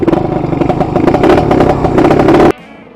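A Kawasaki Victor motorcycle with a small carburetor revs close and loud for about two and a half seconds in a rapid, rising burst, then cuts off sharply to quiet.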